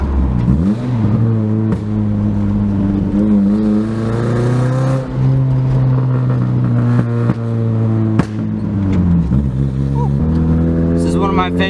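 A 2007 Saturn Sky with a 2.4L engine and an RPM Motorsports test pipe revs loudly and steadily close by, its engine note climbing and falling through gear shifts with brief breaks, no talking over it.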